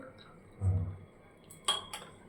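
Dishes clink softly while tea is strained and poured at home, a dull knock followed by a couple of sharper metallic chinks, faint and close.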